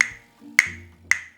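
Spanish castanets are clicked with the fingers three times, each a sharp, bright clack about half a second apart, close and alone in an otherwise quiet room.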